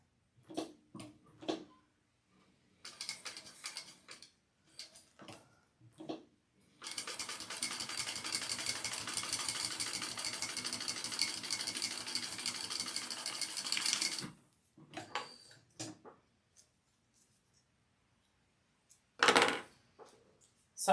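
A sewing machine stitches fabric in short stop-start bursts, then one long continuous run of rapid needle chatter lasting several seconds, followed by a few more brief bursts separated by quiet pauses.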